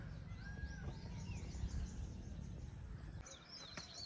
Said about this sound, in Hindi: बैकग्राउंड म्यूजिक सुनना, जो चिड़ियाओं का मोर का जो बैकग्राउंड म्यूजिक आ रहा है ना